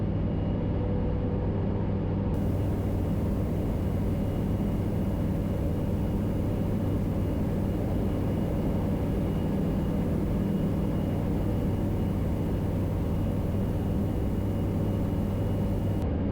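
KFA Safari STOL light aircraft in a steep turn, a constant loud engine and propeller drone with wind roar heard from inside the cabin, unchanging throughout with no voices.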